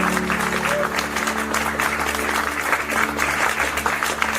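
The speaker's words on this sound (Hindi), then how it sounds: "पूरा हॉल तालियों से गूंज उठता है।" A full hall applauding at an award function, with dense sustained clapping from a large crowd over a low steady hum, moderately loud and without a break.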